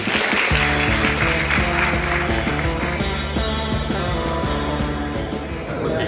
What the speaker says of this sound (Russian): С вас аплодисменты, я закончу